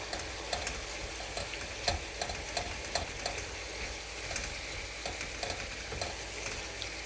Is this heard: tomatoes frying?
yes